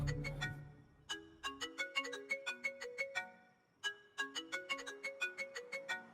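A melodic electronic ringtone plays in repeating bright chiming phrases, pausing briefly before starting again, clear and fairly close.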